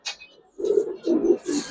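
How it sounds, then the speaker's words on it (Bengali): Three low, throaty coos in steady succession come from a duck-footed Giribaz pigeon close by, with a brief rustle at the start and no talk. "এটা হচ্ছে ভাই হাঁস পায়ের কবুতর"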